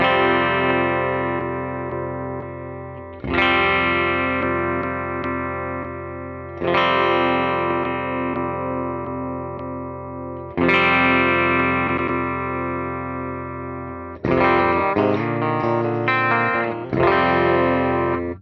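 Distorted electric guitar through a tube amp with 6L6 tubes, chords struck and left ringing, slowly fading each time, followed by a quicker choppy passage; loud, warm and full, no talking.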